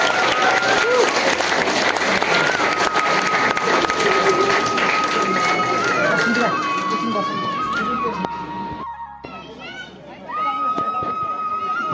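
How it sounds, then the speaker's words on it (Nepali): A crowd applauds at a community service gathering in Turuk, South Sikkim: dense, continuous clapping mixed with chatter and a steady tone, thinning briefly near the end before picking up again. "तुरुक्सीको लागि ताली बजाउनुपर्ने।"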